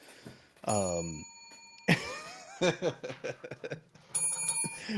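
A bell rings with sustained, bright metallic tones in two bursts, heard under lively conversation and laughter among several people.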